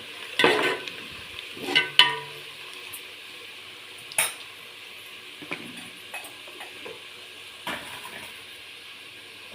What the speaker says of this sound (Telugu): విడిగా రావడం వల్ల ఉల్లిపాయ తొందరగా వేగుతుంది.